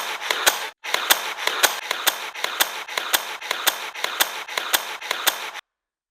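A battery-powered hog-ring tool fires rings in rapid succession, a run of about a dozen sharp, loud mechanical snaps close by, evenly spaced after one brief pause, then silence.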